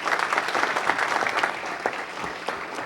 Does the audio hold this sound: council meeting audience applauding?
yes